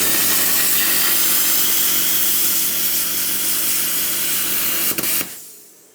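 An Xtreme Plasma Cut 40 plasma cutter slices through 3mm aluminium with a loud, steady hissing roar up close that holds for about five seconds and then cuts off abruptly.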